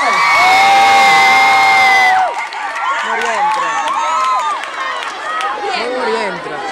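A crowd at a pop concert in Cetraro screams and cheers loudly, with high shouts and whoops at first, then a rowdier mix of shouting and voices, while scattered clapping sits underneath.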